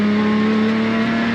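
The engine of a Porsche Cayman GT4 Clubsport Manthey Racing race car holds a loud, steady, high-pitched whine from close by during a brief on-track moment.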